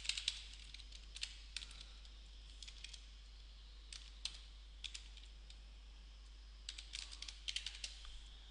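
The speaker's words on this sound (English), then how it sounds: "just type in whatever you like to" Fingers tap out quick, irregular bursts of keystrokes on a computer keyboard, crisp clicks near and fairly quiet with short pauses between runs and no talking.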